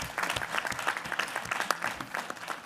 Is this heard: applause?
yes